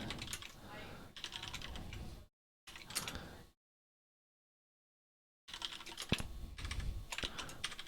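Steady close-up typing on a computer keyboard during a Rust coding session, with dense rapid key clicks that stop briefly for two pauses before resuming.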